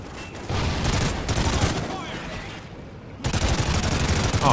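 Grenade blasts and gunfire in the Call of Duty Ghosts campaign mission Birds of Prey, loud, dense and continuous, with a brief lull before a renewed burst of explosive noise.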